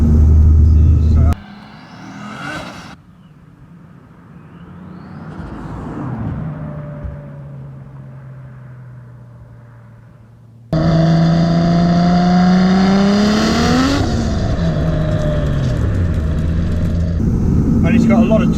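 A 700 bhp Nissan Skyline engine revs hard, its pitch climbing and surging, after a quieter idling stretch; loud and close, with voices talking nearby.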